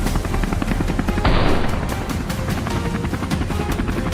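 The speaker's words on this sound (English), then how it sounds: "From the helicopter door, a dark shape moving unusually across the field caught James's sharp eye, and the helicopter quickly swooped in." A helicopter flying low over fields during a wild boar hunt gives a loud, close, continuous rotor drone that beats steadily throughout, with a brief swell of louder noise early on.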